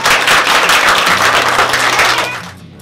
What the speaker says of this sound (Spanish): Un aplauso para Renato Bonfé